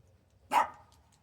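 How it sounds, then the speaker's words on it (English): A single dog bark rings out close by in an indoor workspace during a Christmas blow-mold Santa repair, one short sharp burst over quiet background hum. "My dog's barking."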